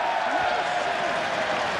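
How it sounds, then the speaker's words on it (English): A rugby crowd gives ironic applause after a disallowed try, heard as steady, dense clapping and crowd noise that sounds slightly distant and continues without a break. "It's an ironic applause from the crowd."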